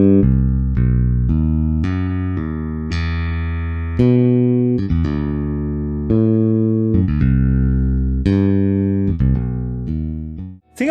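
Bass processed with the Bass Professor Mark II plugin plays a melodic line of plucked notes, each sustaining and fading before the next, upfront and clear, with no talking.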